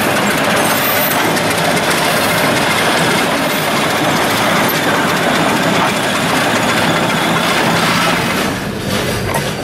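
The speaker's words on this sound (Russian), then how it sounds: "А вот и состав идет под погрузку." Freight train of gondola cars arriving at a sand quarry for loading, a loud, steady rumble of engine and rolling wagons that holds throughout and eases slightly at the end.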